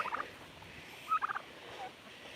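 Heritage bronze turkeys on a farm, gobbling in short bubbling bursts, a quick one at the start and a louder rattling run just past the middle, fairly close over a quiet background.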